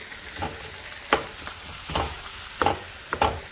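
Spices for gongura chutney tempering crackle and sizzle in hot oil, with the scrape and clack of a spoon stirring the pan in irregular bursts.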